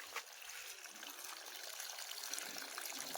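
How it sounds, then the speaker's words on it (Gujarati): Water from drip irrigation trickles and dribbles through a garden orchard of guava and lemon trees, a faint, steady, continuous wash with small splashy flickers and no talk. "ડ્રીપથી પાણી પાવાનું ચાલુ કર્યું છે."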